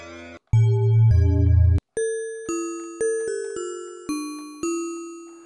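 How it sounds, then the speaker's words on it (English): Synthesized glockenspiel-like bell tones from Logic Pro's Sculpture physical-modelling synth, a short sequence of clear struck notes, each ringing and decaying, played one after another, close and alone after a brief buzzy tone. "that sounds just like a Glockenspiel in many ways"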